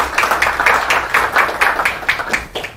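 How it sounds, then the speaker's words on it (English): An audience applauds speaker Rosa Koire, a steady patter of many hands clapping at moderate loudness, continuous throughout with no speech over it. "Please, nice round of applause for Rosa Koire."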